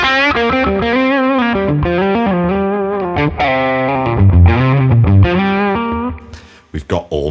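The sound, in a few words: electric guitar bridge pickup through Tone King Imperial MkII plugin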